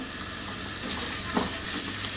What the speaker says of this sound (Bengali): তার মধ্যে কতগুলো পেঁয়াজ কুচি দিব, পেঁয়াজ কুচি দিয়ে পেঁয়াজ কুচিগুলোকে হাই হিটে ভাজবো